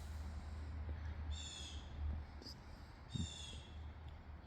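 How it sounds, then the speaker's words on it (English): A crow caws twice from a distance, each call a brief burst, over the low hush of a very quiet spring yard by the woods. "Crow cawed."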